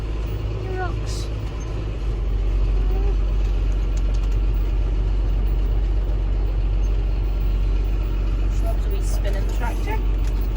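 A farm tractor's engine runs steadily close by after baling about 20 acres of hay, a constant low drone holding level for the whole stretch with no other clear sounds over it.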